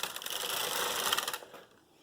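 Brother knitting machine carriage pushed across the needle bed for thread lace, a quick whirring clatter lasting about a second and a half, then dropping to quiet; no talking.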